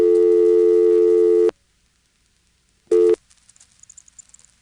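Telephone tones on a 1977 GTE/Leich CXP-5 crosspoint switch: a loud steady multi-frequency tone holds for about a second and a half, falls silent, then a short second burst sounds, followed by faint high chirps.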